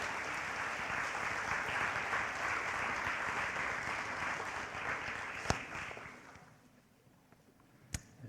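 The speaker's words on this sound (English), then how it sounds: "Can you please give them a round of applause?" Audience applause for senior award recipients at a high school awards ceremony, a broad sustained wash of clapping that fades out after several seconds, leaving near-quiet broken by a couple of sharp knocks.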